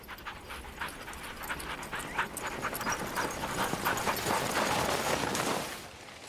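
A team of sled dogs runs along a snowmobile-packed trail in snowy Sweden, with rapid rhythmic footfalls and heavy panting blending into a continuous, fairly close rush that fades at the end.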